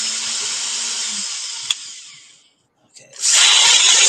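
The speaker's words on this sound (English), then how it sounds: "noise of the drill" A power drill whirs loudly while boring into the underside of a bench, stops with a brief gap of silence, then spins up again at full volume.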